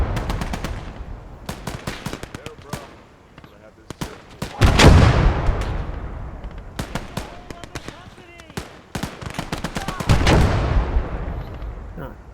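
Sniper rifle shots in a war video game, loud sharp reports with rolling booms scattered across the span amid background battle fire, with talk in the middle.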